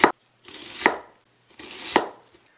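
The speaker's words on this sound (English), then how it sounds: "Now with our onion grid in place, all we have to do is chop right through." Knife chopping through a gridded onion to dice it on a cutting board, two firm cuts each rising to a sharp chop, close and clear with no talk.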